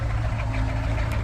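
A camper van's engine idles steadily to warm up, a close, even low rumble with a faint knocking texture and no talk.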